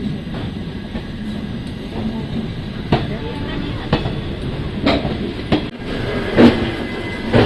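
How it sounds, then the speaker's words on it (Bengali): A passenger train pulls out toward Kashi in Banaras and rolls along the rails with a steady rumble, broken by periodic rattling clacks that swell slightly toward the end. "আমাদের ট্রেন ছেড়ে দিয়েছে"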